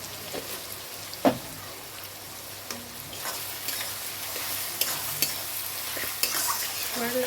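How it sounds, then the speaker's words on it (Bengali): Salted onions frying in a pan for a spicy mutton curry, a soft continuous sizzle with a few sharp clicks of a spatula against the pan. "একটু লাল করে ভেজে নেব।"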